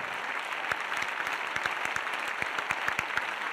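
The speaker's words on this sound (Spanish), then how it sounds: "ahora un aplauso para vosotros" An audience applauds at the close of Naukas Murcia, a science talk event held in May 2019. The clapping is steady, dense and sustained, with sharp individual claps standing out above the crowd.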